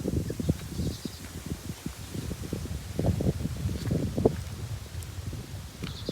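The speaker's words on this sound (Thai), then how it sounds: "ลมแรงค่ะ" Strong gusty wind rushes through foliage at a rice field, leaves rustling and rattling unevenly with rumbling gusts, steady and close, no voices.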